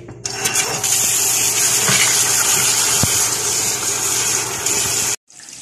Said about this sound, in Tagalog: Hugasan natin siya.